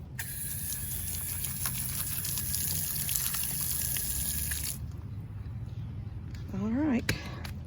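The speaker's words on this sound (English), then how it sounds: "put a little bit more water this front side" Steady water noise of water poured onto fresh concrete runs continuously with a high hiss, then drops off and faint background sounds remain.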